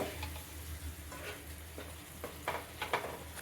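Chicken ghee roast masala, Kerala style, is stirred in a pan after a little hot water is added. Soft, quiet scrapes and ticks of the spoon sit over a low steady hum.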